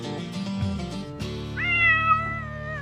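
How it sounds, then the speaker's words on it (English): A cat meows loudly and close by in one long, drawn-out wavering meow, preceded by a shorter cry and some low background rumble. "World's loudest cat."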